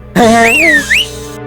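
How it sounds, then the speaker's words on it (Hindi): A loud, clear whistle from a person in a Hindi-dubbed South Indian action film scene, rising and falling in pitch across two phrases over a steady background hum. "तू क्या हर बात पे सीटी बजाते रहता है?"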